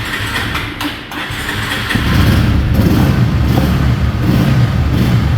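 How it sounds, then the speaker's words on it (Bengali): A lightly used motorcycle cranks over and its engine catches about two seconds in, settling into a steady, loud, close idle rumble with no talking. "তো এখন আমি আপনাদেরকে বাইকটি স্টার্ট দিয়ে দেখে দিই এক নজর।"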